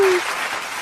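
Applause from a church youth group at an Easter gathering, a short burst of dense clapping that fills the moment at moderate volume after a brief tonal note at the start.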